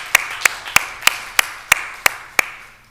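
Applause at a Commission on Police Practices public meeting, heard as eight evenly spaced sharp claps, loud and close, with nothing else over them.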